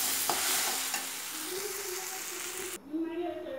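Jackfruit frying in a pan while being stirred, a steady broadband sizzle with scraping strokes, loud and close, cutting off sharply near the end as a voice speaks over quieter cooking.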